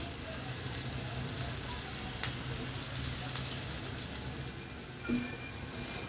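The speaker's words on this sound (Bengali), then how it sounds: "পেঁয়াজটা একটু নেড়ে চেড়ে ভেজে নিচ্ছি" Steady crackling sizzle of chopped onions frying in a pan for an eggplant and baim fish dish, continuous and close, with a brief clink near the end.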